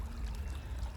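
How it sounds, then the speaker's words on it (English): Rapid river water rushing through a park, split around a patch of vegetation, giving a steady close low-pitched wash and trickle with no voices. "the river is more rapid here, and it's split in half just over that vegetation bit"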